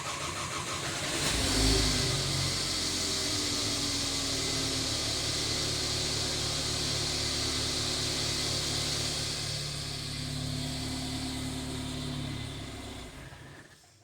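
A Mercedes engine cranks briefly and catches after its fuel pump primes, then settles into a steady, fairly loud idle with a low hum that holds for many seconds before dropping away at the end.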